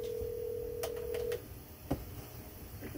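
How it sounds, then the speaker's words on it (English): A telephone in an IT office dials out a call, with a steady tone for a moment and then a few short clicks and beeps over quiet room background. "I'm just gonna call someone real quick."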